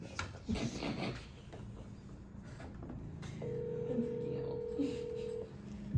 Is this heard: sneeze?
no